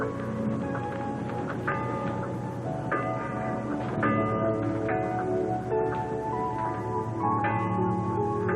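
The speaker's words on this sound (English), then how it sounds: "every time we hear the harbor bells" Harbor bells ring out in a steady series of overlapping metallic strikes, resonant tones layering and sustaining over a continuous background, fairly loud and with no talk.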